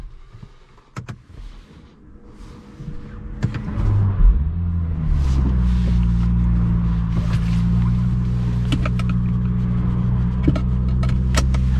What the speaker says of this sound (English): we're just going to wait for this to finish its cold start